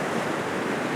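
Rushing waterfall cascades in Maryland produce a steady, dense roar of falling water, loud and unbroken throughout with no voices.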